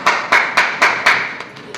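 Hands clap at a birthday party: four sharp, evenly spaced claps, then a few softer, quicker ones trailing off, close and clear with no talking.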